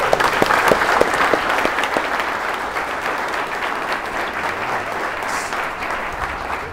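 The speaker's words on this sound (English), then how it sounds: "let's give a big round of applause to mHUB and Bill Fina" A crowd at an mHUB event applauds for mHUB and Bill Fina: a steady wash of clapping with a few sharp individual claps early on, sustained and fairly close throughout.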